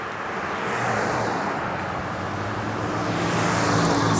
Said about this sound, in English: when the cars come by, you can't hear me.